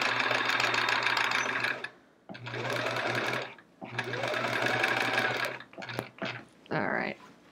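A sewing machine stitches the back of a chevron quilt in three steady runs of rapid, close mechanical whirring, separated by short pauses, with a few small clicks and handling noises at the end.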